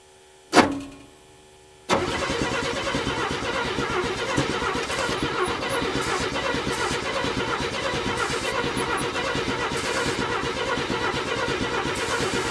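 A 1957 Chevy 210, left unstarted for 50 years, gives a sharp click and short burst, then a long steady rhythmic cranking that runs on without catching, close and moderately loud.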